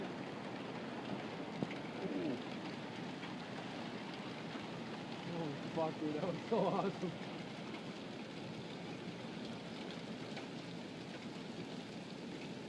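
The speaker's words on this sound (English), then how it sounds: "Yeah, that's hail." A summer hailstorm falls outside as a steady, dense patter that fills the whole stretch, with excited voices talking briefly over it partway through.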